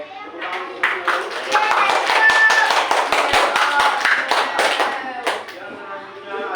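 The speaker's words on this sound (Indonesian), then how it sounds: "Oke, tepuk tangan untuk dulu." Students in an Indonesian classroom clap together during a role-playing lesson, a dense patter of many hands sustained for several seconds, with voices talking over it.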